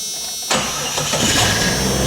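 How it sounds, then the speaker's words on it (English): A truck engine cranks and catches after a moment of quiet, then settles into a loud, steady idle close by. "Start my truck."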